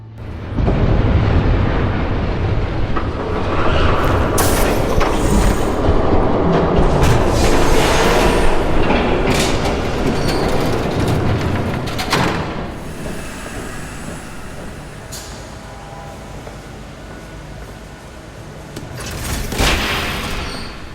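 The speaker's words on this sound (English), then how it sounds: "There's a train coming." A train rumbles past in the Batman: The Telltale Series video game, a loud sustained roar of wheels and carriages with metallic clanks and screeching, easing off toward the end.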